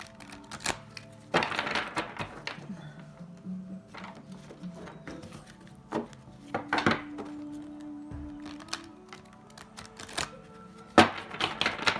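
Soft, irregular riffling and tapping of a tarot deck being shuffled up close, with scattered light knocks and thumps on a table, fairly quiet.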